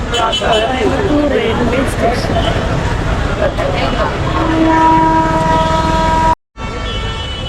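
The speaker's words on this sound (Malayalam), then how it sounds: "നമ്മുടെ കന്യാകുമാരി ദിബ്രുഗഡ് വിവേക് എക്സ്പ്രസ്" The Kanyakumari–Dibrugarh Vivek Express rolls through a railway station with a rumbling clatter of wagons, then a sustained horn blares near the end, while people talk over the noise.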